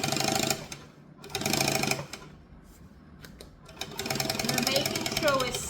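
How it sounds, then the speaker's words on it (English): A sewing machine top-stitching vinyl runs in short bursts of rapid mechanical chatter separated by pauses, close and moderately loud, with a voice talking in between. "So now when I top stitch it, it should be glorious"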